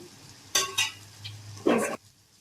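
Fish roe curry with eggs being stirred in a pan: several sharp scraping strokes of a spatula against the pan, with a soft frying hiss in the background, close and fairly quiet, no speech.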